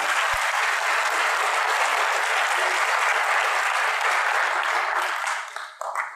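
Lecture audience at a Panafricanism talk gives a loud, steady round of applause, a thick wash of many hands clapping that holds for several seconds before thinning out near the end.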